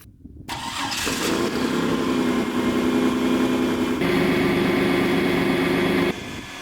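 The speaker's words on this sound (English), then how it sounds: "Get the van started and we can move to the first location." A van engine cranks briefly and catches on a chilly morning, then settles into a steady, loud idle that continues alone to the end.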